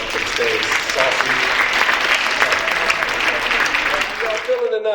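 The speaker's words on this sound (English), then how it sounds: "So can we please give this young man a round of applause and welcome to the stage, Saucy." Loud, steady applause from an audience welcoming a young performer named Saucy to the stage at an evening event, continuous clapping and cheering that cuts off abruptly at the end.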